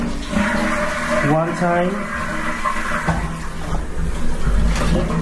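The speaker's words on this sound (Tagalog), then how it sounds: "And let's flush it" A toilet flushing in a hotel bathroom, a rushing gurgle of water that swells and then drains away, close by, with someone talking over it.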